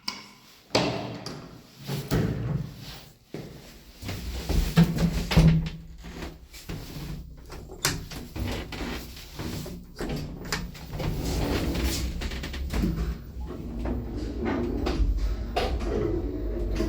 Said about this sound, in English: Oh, elevator, look at that door closer.